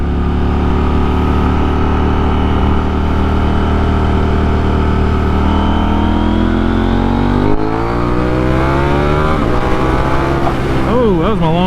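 KTM Duke 890R motorcycle engine held at a steady loud drone during a long wheelie, pitch climbing and wavering near the end as the throttle shifts and the front comes down, close and continuous.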